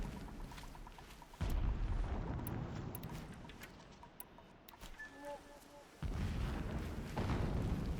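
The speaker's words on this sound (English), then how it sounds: "Ah, you're watching the fireworks live." Fireworks booming in the video game Horizon Zero Dawn, with deep, rumbling blasts that swell and fade across the scene, heard at moderate distance under faint background sounds.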